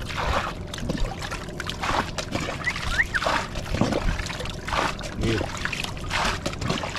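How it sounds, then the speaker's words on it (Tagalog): Seawater rushing and sloshing into an underwater grouper den opened up while spearfishing, a steady turbulent wash with gurgling bursts and bubbling, close and continuous throughout. "papasok na yung dagat oh"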